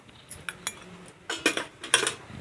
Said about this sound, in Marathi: सगळं व्यवस्थित मिक्स करून घेऊया इथे मी मसाले तेलामध्ये फिरवून घेतले परतून